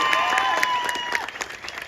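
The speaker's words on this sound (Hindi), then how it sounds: "मुझे लगता है और जोरदार ताली इस बात पर बजनी चाहिए" A rally crowd at an Indian election campaign event in Maharashtra breaks into loud, sustained applause, dense close clapping with some crowd noise, easing slightly toward the end with a few sharper bursts.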